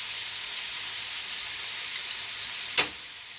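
Scallops sear in a hot pan with butter, a steady bright sizzle and fizz running throughout, broken near the end by one short sharp clink or pop, with no voices.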